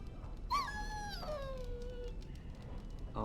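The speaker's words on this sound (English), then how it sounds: "Oh, don't even start with the sad eyes. I'm immune to your so-called charms." In Dragon Age: Origins, a dog lets out a drawn-out, falling whine that sounds close and plaintive, followed by a brief second whimper near the end over a quiet game background.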